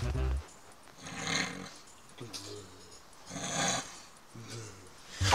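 Slow, regular snoring, with a raspy breath about every second and a quiet gap between breaths, faint against a low background.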